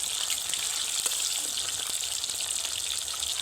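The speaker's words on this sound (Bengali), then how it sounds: "এই মাছগুলো না বেশ অনেকগুলো একসঙ্গে দিয়ে ভাজা যায়, তার জন্য বেশ কয়েকটা একসঙ্গে দিয়ে দিয়েছি" Several pieces of Sankar fish fry together in hot oil, giving a soft, continuous sizzle with scattered crackles and spits, fairly quiet and without any voices.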